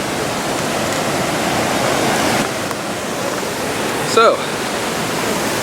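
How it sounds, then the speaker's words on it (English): Stainforth Force waterfall flowing gently, a steady broadband rush of water filling the scene throughout, with a brief spoken word near the end. "The waterfall's nice and free flowing."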